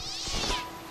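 A cat meows in the video game Stray, one short rising cry over steady game ambience with no talk.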